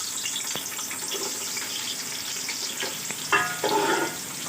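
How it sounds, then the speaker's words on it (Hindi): Sliced onions fry in a cup of hot oil in a large cooking pot, giving a steady, dense sizzle with a brief louder bubbling burst near the end. "अब प्याज को हमने लाइट ब्राउन होने तक पकाना है।"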